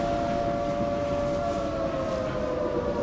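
Siren Head's wailing siren in the horror game Krakatoa sounds as a loud, sustained droning tone with steady harmonic bands, filling the whole moment alone without any speech.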